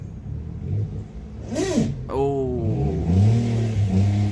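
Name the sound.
Peugeot 107 engine starting and revving after a year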